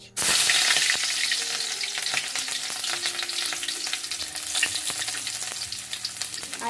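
Chilies hit hot vegetable oil in a pan for a homemade pasta dish, bursting into a loud, steady sizzle and crackle that continues unbroken throughout, close up and with no voices.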